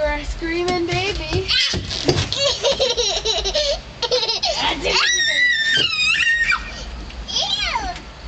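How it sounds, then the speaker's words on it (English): A baby shrieking and squealing with high-pitched excited laughter, repeated loud bursts up close, mixed with an adult talking and playful voices. "You're a screaming baby."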